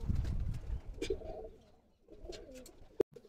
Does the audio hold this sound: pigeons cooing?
yes